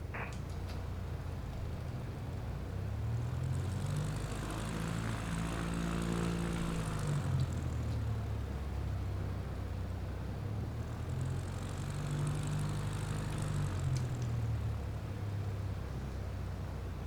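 A CubCrafters light propeller plane taxis in Microsoft Flight Simulator 2024, its steady engine drone rising and falling twice as the throttle swells, holding a constant hum throughout with no talk.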